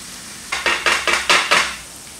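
Chopped onions and grated garlic hit hot oil in a pot and are stirred, giving a burst of bright sizzling with rhythmic scraping pulses for about two seconds.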